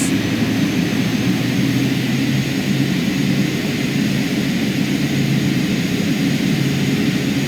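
A Carenado King Air B200 twin turboprop in MSFS 2020 runs at takeoff power, a loud, steady engine roar with a low droning hum and constant hiss, heard alone with no talk.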